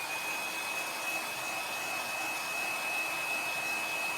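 A hair dryer blows steadily over a freshly applied Chalk Couture chalk transfer, giving a constant close airy whoosh with a thin high whine and no talking.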